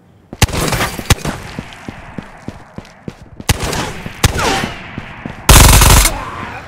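Gunfire in the video game Ghosts of Tabor: scattered sharp, loud single shots spaced across the moment, ending in a short dense burst.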